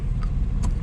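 Car engine running while parked with the air conditioning on, a steady low idle rumble close by with a few faint clicks, alone without talk.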